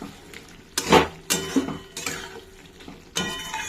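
Water goes into a pan of mustard fish curry amid close clinks and scrapes of a utensil against the pan, with several sharp bursts of clatter and soft splashing in between, no talking.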